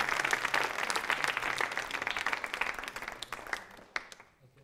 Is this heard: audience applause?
yes